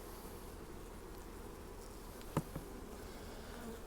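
Honey bees buzz around an open hive while a nucleus colony is installed, a faint, steady hum with a brief soft knock midway, with no voices.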